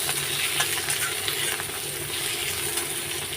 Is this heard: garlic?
yes